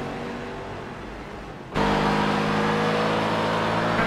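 A prototype race car at Sebring during a six-hour endurance race, at first a quieter distant rumble, then abruptly a loud, sustained high-revving engine roar close by.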